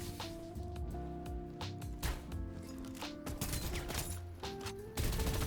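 Rapid gunfire bursts from the shooter game Farlight 84, irregular cracks and rattles over a humming game soundtrack, with a louder cluster of shots toward the end and no talking.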